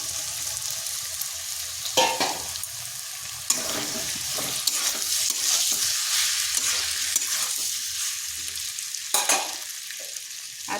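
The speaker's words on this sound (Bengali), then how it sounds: "আলুটা ভাজা হয়ে গেছে, এরপর এখানে দিয়ে দিচ্ছি সাবুদানাগুলো।" Sago pearls tossed into a pan with fried potatoes for sabudana khichuri hiss and sizzle steadily, broken by scraping stirs of a spatula at intervals; close, continuous cooking noise with no talk.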